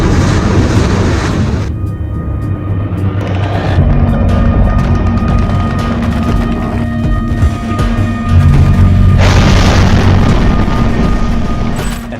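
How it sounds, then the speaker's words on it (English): Rockets exploding in war footage from the Russian invasion of Ukraine: loud, heavy booms and rumbling blasts with layered low roar, continuous and overwhelming throughout. "the rockets start flying and the tanks start rolling"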